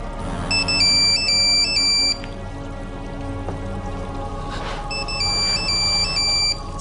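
A mobile phone ringtone plays as a repeating electronic melody in two bursts, the first near the start and the second after a pause, loud and clear over a steady hiss of background noise resembling rain.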